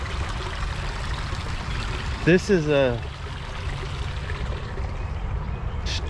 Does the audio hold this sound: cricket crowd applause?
no